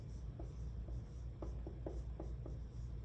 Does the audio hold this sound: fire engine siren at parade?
no